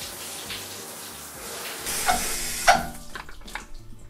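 Running water rinses shampoo out of a child's hair, a steady splashing stream that swells and turns louder with sharper spatters midway through, then eases back to a softer trickle.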